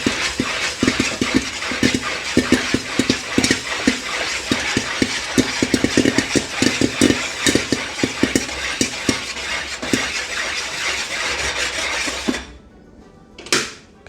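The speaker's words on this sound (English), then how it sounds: "very drastic increase in temperature that's going to cause these kernels to start exploding" Popcorn kernels being stirred in a pan on the stove, with dense, irregular sharp pops and a constant sizzling hiss, loud and close, thinning out and stopping near the end.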